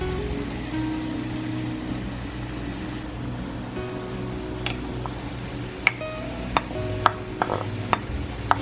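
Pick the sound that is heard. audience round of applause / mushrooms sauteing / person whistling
mushrooms sauteing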